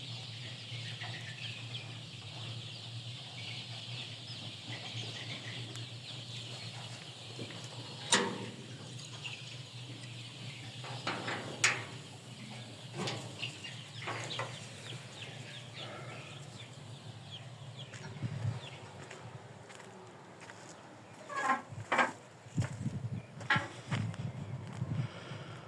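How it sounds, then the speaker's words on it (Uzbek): Chickens in a coop cluck faintly and intermittently over a low steady hum, with a few louder clucks and rustles toward the end. "Bak, tovuqxonamiz. Mana bizni tovuqxona."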